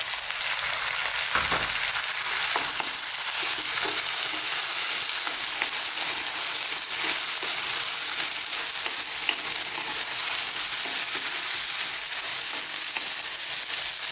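Sweet potato and bean vegan chili frying in a pan as a tin of chopped tomatoes goes in, giving a steady, close, fairly loud sizzle with occasional stirring scrapes throughout, and no talking.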